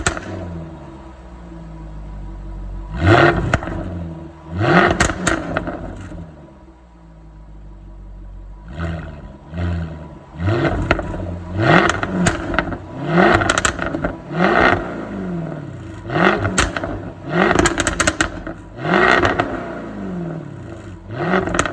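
A loud Jaguar F-Type R engine revs repeatedly in sharp bursts, each rev climbing and falling back to a rumbling idle, with crackles between blips.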